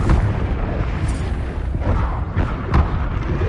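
Confringo blasting spell in Hogwarts Legacy bursting into a series of loud, booming explosions, with sharp blasts recurring over a dense rumbling wash of game combat noise.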